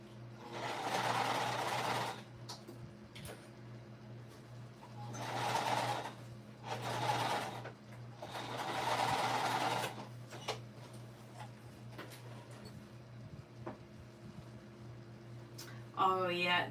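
A sewing machine stitching a quilt runs in several steady, whirring bursts of a few seconds each, separated by pauses. It is fairly quiet and plays over a constant low hum, and someone talks at times between the runs.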